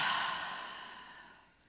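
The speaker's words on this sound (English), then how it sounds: "So let's take that deep breath." One deep breath, a long breathy exhale that fades slowly during a spiritual center service, close and alone with no speech.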